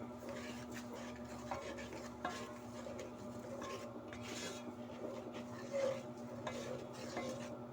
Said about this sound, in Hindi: चम्मच चलाते जाएंगे